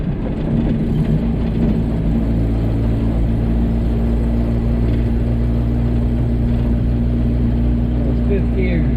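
A Datsun 521 pickup cruising in fifth gear after a five-speed swap, its engine a steady low rumbling drone heard from inside the cab, with a person talking over it.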